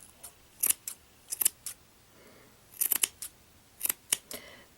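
Scissors snip in quick bursts of two or three sharp cuts while trimming a bobble troll's yarn tail, close and crisp with short quiet pauses between clusters.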